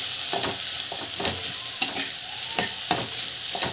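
Onions with mint and coriander sizzle steadily in a hot pan for a peanut salad, with repeated close scrapes of a spoon stirring through the sizzling.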